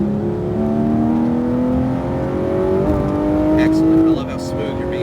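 A car accelerates around cones on a driving course, its engine note climbing steadily with a few gear-like shifts, heard from inside the cabin under continuous moderate engine drone.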